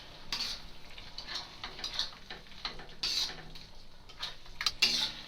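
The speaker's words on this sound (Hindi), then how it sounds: "अब हम इसमें अपने सोया चंक्स डाल देंगे और इन्हें अच्छे से मिक्स करेंगे।" Soya chunks being stirred into a fried masala paste in a pan for aloo soya sabzi, with repeated scraping and clinking of a spoon against the pan and a soft sizzle beneath, close and fairly steady.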